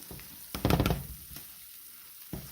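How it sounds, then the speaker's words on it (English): Rice being stirred in a pot over low heat for Puerto Rican rice and beans, heard as a short burst of spoon scraping and a gentle sizzle, close by, then a quieter pause and one more brief scrape. "So you're gonna stir the rice."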